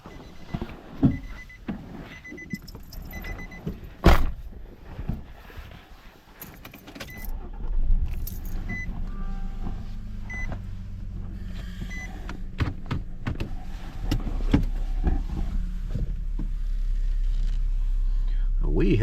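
A truck on backwood trails near the Choctawhatchee River: keys jangle and a door and window are worked, then the engine rumbles steadily as the truck moves off, with someone talking over it.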